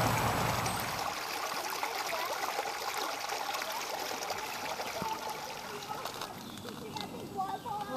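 A creek flows over rocks with a soft, continuous trickling and babbling, loudest at first and then steady at moderate volume, with occasional splashes near the end.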